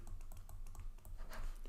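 Typing on a computer keyboard, a quick irregular run of soft, close key clicks at low volume with no voices.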